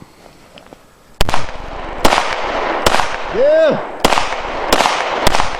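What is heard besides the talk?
gunshots from a Hi-Point .40 handgun at a gun range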